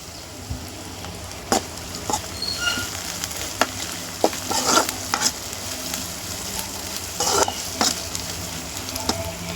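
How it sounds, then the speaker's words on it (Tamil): Green chilies and ginger-garlic paste are sautéed in oil for an egg thokku, with a constant crackling sizzle and repeated sharp spatula scrapes and taps against the pan, close and clear. "இது கூட கொஞ்சோண்டு இஞ்சி பூண்டு பேஸ்ட்டையும் சேர்த்து அதையும் நல்லா வதக்கிக்கலாம்"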